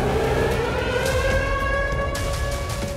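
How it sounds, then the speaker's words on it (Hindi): A civil defense siren wails across Russia, a steady, loud, sustained tone with slowly drifting pitch that runs unbroken over a constant background roar. "वोल्गा, बेलगोरोड, मॉस्को से लेकर व्लादिवोस्तोक तक रूस में सायरन गूंज रहे हैं।"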